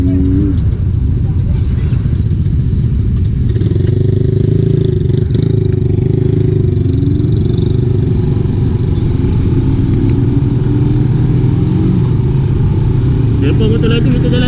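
Several motorcycles ride together in a group on a leisurely outing, with a continuous close engine drone and clatter and a rising note midway, while people talk over it.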